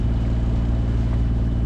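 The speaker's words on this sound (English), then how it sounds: "So engine's on, as you can hear, and we're chugging north." Sailboat engine running under power on an overnight passage north from Tobermory to Tarbert in light wind, a steady low chugging drone with even tonal throb, close and continuous throughout with no talk.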